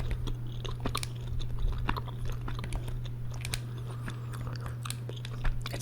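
Close, steady chewing of big red cinnamon bubblegum, with soft wet smacks and crunchy bites in an even rhythm over a low constant hum, with no talking.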